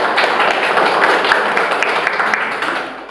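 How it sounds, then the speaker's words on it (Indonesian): Classroom audience clapping for a student group after their presentation, a steady dense patter of many hands filling the whole stretch and tapering slightly near the end. "tepuk tangan untuk kelompok"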